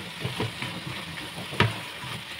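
Ground pork (giniling) sizzling in a pan for tortang giniling, a soft steady crackle with a few brief scraping stirs, fairly quiet.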